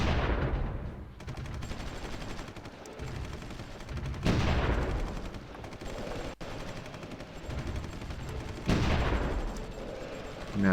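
Artillery and gunfire in the strategy war game Supreme Ruler Ultimate, heavy booming blasts that swell and decay in repeated waves over a dense, continuous rumble of battle.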